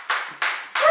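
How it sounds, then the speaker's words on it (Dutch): Three sharp hand claps spaced evenly across about a second, crisp and close, with nothing else heard. "Ik klap voor iedereen!"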